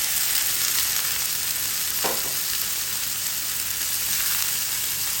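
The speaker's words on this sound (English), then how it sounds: "Now add the marinated shrimp." Marinated shrimp hit a hot pan for a shrimp, broccoli and white beech mushroom stir-fry, giving a steady, loud hiss and crackle of frying with a brief scrape partway through.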